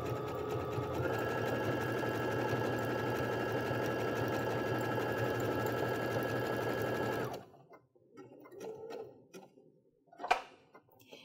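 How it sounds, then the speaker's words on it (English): A Baby Lock sewing machine runs a satin stitch with a steady, fast mechanical whir for about seven seconds, then stops abruptly, leaving faint handling clicks and a brief thump. "I've already set my machine up for a satin stitch."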